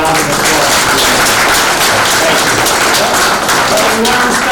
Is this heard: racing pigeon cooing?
no